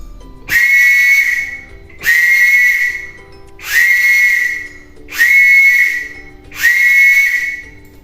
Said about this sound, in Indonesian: itu tadi adalah bunyi peluit Morse untuk angka.